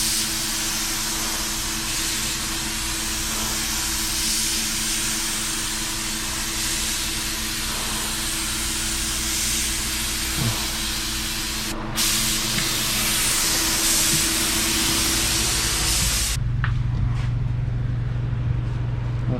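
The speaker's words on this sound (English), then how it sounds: "Keep spraying, Nash." A paint spray gun hisses steadily and loudly while coating a V8 Mercedes in a makeshift booth. The broadband rush continues almost unbroken and cuts out near the end, leaving a low hum.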